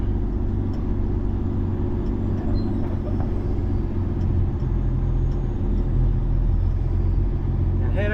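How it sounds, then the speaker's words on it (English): Car rolling along a road through a U-turn, a steady low engine and tyre rumble heard from inside the cabin, constant and moderately loud throughout. "I'm gonna break a U-turn right up here"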